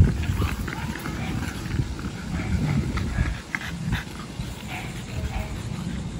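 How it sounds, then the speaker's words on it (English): Several dogs in a kennel make a continuous restless din of whimpers and scuffling movement, with rattling and thumping close to the microphone throughout. "These dang dogs."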